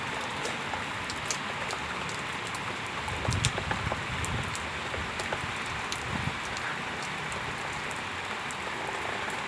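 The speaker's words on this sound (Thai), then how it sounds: "คืนนี้ฝนอาจจะไม่หยุด" Steady rain falls through a stormy night in Surin, Thailand, a constant broadband hiss of drops with a few louder low thumps, no voices present.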